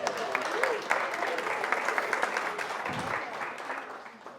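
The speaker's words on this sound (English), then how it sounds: "So give yourselves a little bit of a round of applause for being here today." Wedding guests applaud during the reception speeches, a dense, steady crowd clapping that fills the room and slowly tapers off, with faint voices underneath.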